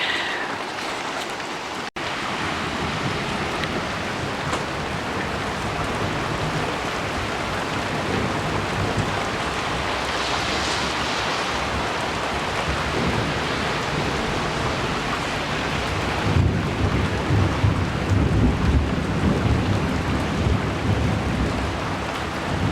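Heavy rain pours steadily over a community garden plot in late summer, a dense hiss that never lets up, while low thunder rolls and rumbles in the distance beneath it.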